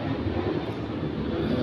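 An airplane passes overhead near an airport at a house below Mount Arjuna, giving a steady, broad, droning roar that holds at an even level throughout.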